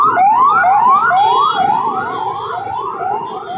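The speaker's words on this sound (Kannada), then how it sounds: "ಇವಾಗ ರೋಡಲ್ಲಿ ಬರ್ತಾ ಇರಬೇಕಾದ್ರೆ ಆಂಬುಲೆನ್ಸ್ನ ನೋಡಿದೆ" Ambulance siren on a congested road in heavy traffic, wailing loudly and up close in a steady, repeating rise-and-fall pattern over a low rumble of vehicles, with no talking.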